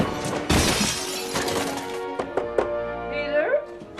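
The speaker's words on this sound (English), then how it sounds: "it sails past him and shatters against the wall" A green lamp shatters against a bedroom wall in a Spider-Man film scene, a sharp crash of breaking glass and debris followed by scattered clatter, with voices and a faint score after it.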